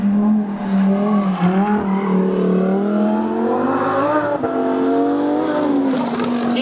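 A powerful car engine, either a Mercedes E300 or a Lamborghini Huracan EVO RWD, revs and accelerates close by. The loud, continuous roar climbs in pitch through the gears with no voices over it.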